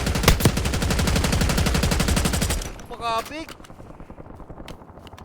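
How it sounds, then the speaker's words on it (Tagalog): Rapid automatic gunfire in a shooter video game, loud, dense bursts filling the first half, then a sudden stop followed by an electronic warble and quieter scattered game noise, with players shouting and talking over it. "Ititigil mo yung putok."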